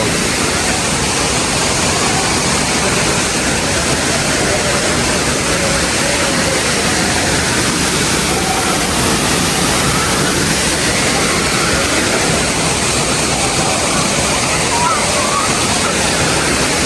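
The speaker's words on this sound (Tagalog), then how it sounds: "Grabe, ang ganda po dito. Pasang Falls." Pasang Falls, a waterfall, pours with a loud, steady roar of rushing water that fills the scene close by and stays unbroken throughout.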